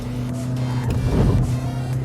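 An autocross car accelerates at full power out of a corner, its engine a steady, loud drone with a rising surge partway through and no talking over it.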